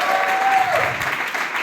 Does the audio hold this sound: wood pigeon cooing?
no